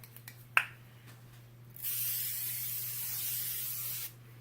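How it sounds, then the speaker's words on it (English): A quick click, then a steady airy hiss of Japanese makeup setting spray lasting about two seconds before stopping abruptly, close and fairly quiet. "I'm going to use my Japanese makeup setting spray to finish everything off here."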